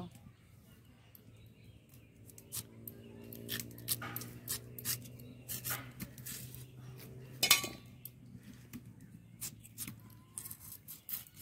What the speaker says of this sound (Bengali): গাজরটা কেটে নেব।